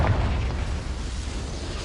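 A Confringo spell explosion in Hogwarts Legacy gives off a brief, deep, rumbling boom that fades into a low roar.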